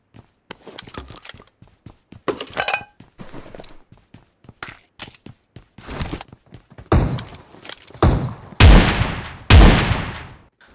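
Shotgun blasts from a PUBG Mobile match: sharp, spaced booming shots among clicks, footsteps and handling sounds, growing heavier and louder toward the end with several close reports.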